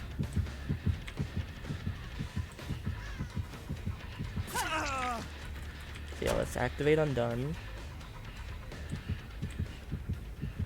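A rhythmic low thumping heartbeat, signalling an approaching killer in the Dead by Daylight video game, pulses steadily throughout under a voice and some game sound effects.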